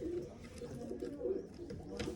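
Large pigeons coo in a steady low murmur while feeding on scattered grain in the evening, several birds overlapping in soft repeated calls up close.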